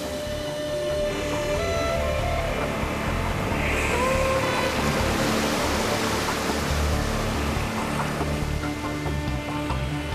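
Ocean waves wash steadily around a piece of floating driftwood off the Canary Islands, a continuous close surf roar with no distinct breaks.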